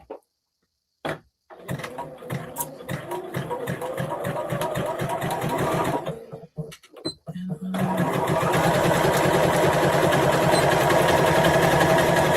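A sewing machine runs the last seam of a scrap mug rug, whirring steadily at close range, first in choppy stops and starts and then in one long continuous run, with a voice heard over it.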